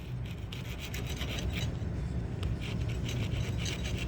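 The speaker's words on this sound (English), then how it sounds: "what we'll do now is put the rasp in" Steel rasp filing back and forth inside the mortice lock hole in a wooden door edge, a continuous close gritty scraping with repeated short strokes and no talking.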